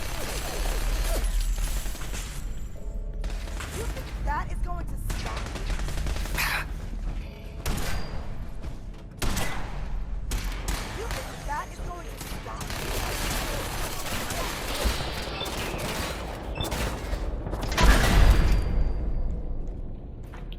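Intermittent gunshots and impacts in Fallout 4, a string of sharp cracks and thuds scattered through continuous game ambience, with one louder heavy blast near the end.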